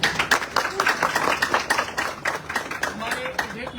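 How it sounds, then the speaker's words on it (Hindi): Audience applause at a business gathering honouring a mentor, steady dense clapping with sharp hand-claps mixed in, a few voices audible beneath. "मैं चाहता हूँ गुरु जी के जोरदार तालियां हो।"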